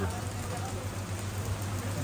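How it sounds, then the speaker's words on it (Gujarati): Heavy rain pours down steadily and loudly outdoors, a dense continuous hiss and patter filling the whole moment. "તો ધમાકેદાર વરસાદ ચાલુ થઈ ગયો હો"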